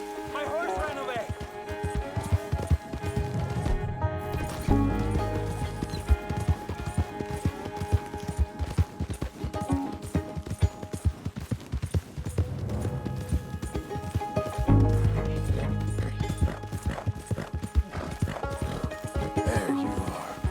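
Rhythmic hoofbeats of a galloping horse in Red Dead Redemption 2 pound steadily, with a brief whinny and a game-like music bed underneath.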